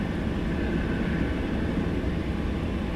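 An EasyJet airliner taxis at Luton Airport early in the morning, a steady broad engine roar and rumble, constant in level across the few seconds.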